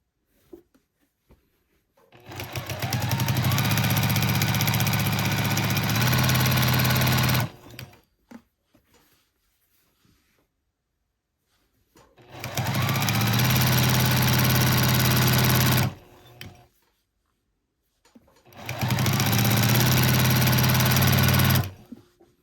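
A sewing machine stitches quilt binding in three sustained bursts of steady, close motor whir, separated by short pauses of near silence.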